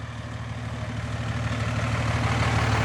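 A Cummins diesel truck engine idles nearby with a loud, steady low rumble and faint rhythmic pulsing, growing slightly louder throughout.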